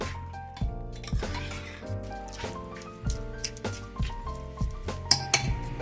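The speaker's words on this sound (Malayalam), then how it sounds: "നമുക്കിതെല്ലാം കൂടി ഒന്ന് ഇളക്കി കൂട്ടി അടുപ്പത്ത് വയ്ക്കാം" Meat being stirred with spice powders and ground pepper in a pot for kappa biriyani, giving close, irregular clinks of a spoon against metal with soft wet squishing between strokes.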